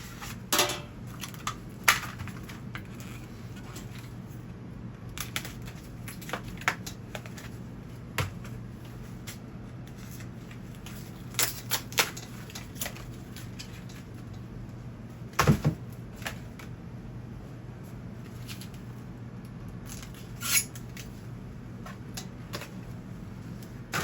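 Packaging being cut away from a boxed 26-inch DK Legend BMX bike: scattered sharp clicks and snips over a steady low room hum, fairly quiet and close.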